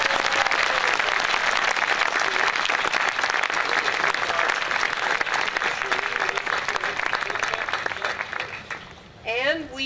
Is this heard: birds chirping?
no